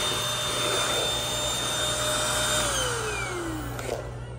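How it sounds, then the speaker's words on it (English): A vacuum cleaner being tested in a Goodwill store runs steadily and fairly loud throughout, a constant motor whine with a brief scraping bump near the end as it picks something up. "this vacuum isn't that bad"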